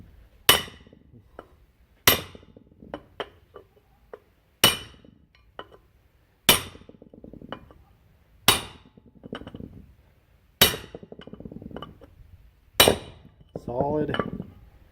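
Sharp metallic hammer blows on parts of an older 4x4's front rotor, seven evenly spaced loud strikes about two seconds apart, each ringing briefly with faint rattles and clinks between them.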